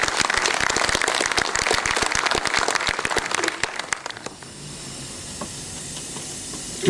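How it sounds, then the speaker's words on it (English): An audience applauds the marine protection team at a coastal awareness event, a burst of dense clapping for about four seconds that cuts off abruptly, leaving a faint steady hiss. "I think they deserve a round of applause."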